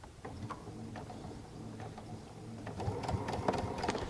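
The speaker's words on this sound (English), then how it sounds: "Let's give that one a go." A Baby Lock Altair sewing machine with a bias binder foot runs at a steady low hum with a rapid mechanical stitching chatter that grows a bit louder and busier toward the end, close by and with no talk.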